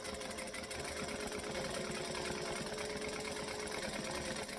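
A sewing machine back stitching fabric runs as a steady, even mechanical whir with a fast needle rhythm, close and moderately quiet, alone without talk.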